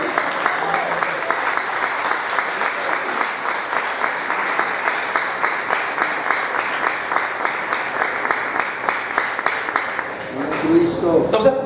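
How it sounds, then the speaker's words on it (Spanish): A church congregation at a Spanish-language preaching conference claps in a fast, steady rhythm, loud and close, with voices and shouts joining near the end. "Denle un aplauso a Dios."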